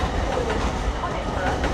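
An LNER Class 801 train, unit 801-104, pulls out of Doncaster station with a steady close rumble and faint rhythmic wheel clatter, partly under a voice talking.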